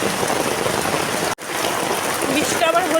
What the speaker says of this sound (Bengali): দেখছো কী হারে মুষলধারে বৃষ্টিটা হচ্ছে